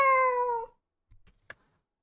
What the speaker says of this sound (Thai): เมื่อกี้เสียงแมวนะคะ